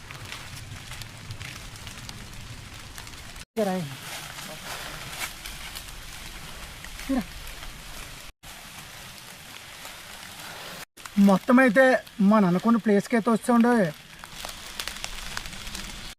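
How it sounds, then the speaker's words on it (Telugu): Steady rain patters over a cashew orchard campsite at night, a constant hiss under a man's nearby speech, with short breaks in the recording. "మనకైతే ఇప్పుడు వర్షం అయితే పడుతుందండి."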